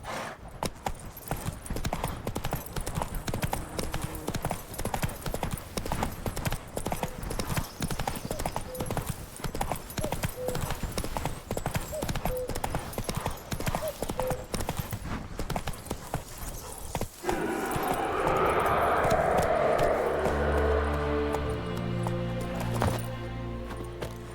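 Horse hooves clip-clop steadily in a gallop through The Witcher 3, continuous and fairly loud across the whole stretch, with game ambience and music swelling toward the end.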